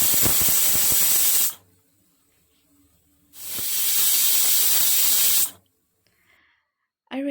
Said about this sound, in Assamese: তেতেলী আৰু নিমখ দি কুকাৰত 2টা চিটি মৰাই ল'ম।